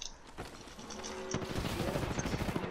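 Gunfire in the battle royale shooter Apex Legends: a loud burst of rapid shots that builds into sustained automatic fire, with in-game effects layered over it.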